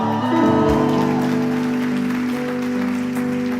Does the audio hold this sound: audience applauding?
yes